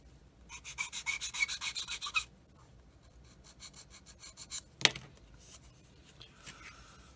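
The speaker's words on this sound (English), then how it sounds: "So I want to make sure that is sanded smooth." Sandpaper rasps back and forth across a plastic part from a Revell 1/48 F-15C Eagle model kit, a quick run of close, rhythmic strokes followed by quieter scattered rubbing and a single sharp tap.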